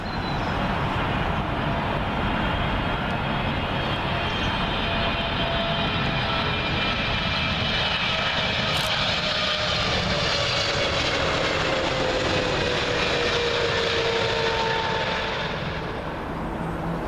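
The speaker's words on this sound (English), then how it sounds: "First up, Air Canada 777, coming in from Vancouver" An Air Canada Boeing 777 arriving at Heathrow from Vancouver passes low and loud, its heavy engine roar carrying a falling whine through the pass, steady throughout and slightly tapering at the end, with no speech.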